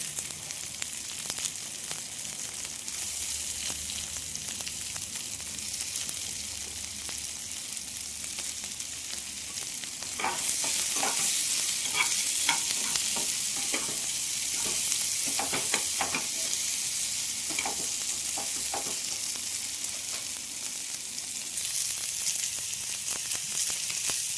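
Boiled potatoes frying in egg curry as they are stirred in the pan, a steady bright sizzle that grows louder partway through, broken by clattering stirring scrapes, with no talk.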